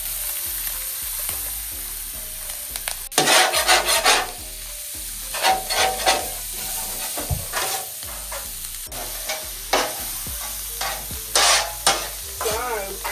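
Vegetables fry in oil in a pan, a steady sizzle broken by loud bursts of stirring and scraping that come and go every few seconds, close by with no talking.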